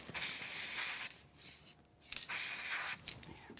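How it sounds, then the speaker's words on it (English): Spray glue hisses from an aerosol can onto the back of a sheet of paper in a crafting session, delivered in three close bursts of loud, airy spray separated by short pauses. "I'm going to go ahead and use some spray glue on the back of this to put it into place"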